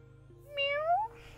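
A cat in The Sims video game gives a single rising, clear meow, close and moderately loud over a low, quiet background hum.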